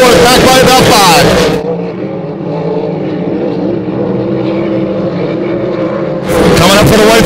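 A race car screams past on the front straight of the Webster Grand Prix circuit, the driver working in and out of the throttle. Loud engine roar fades and then returns sharply at the end, while a commentator talks over it.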